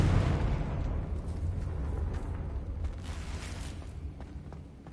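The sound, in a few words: Confringo blasting spell explosion in a Harry Potter video game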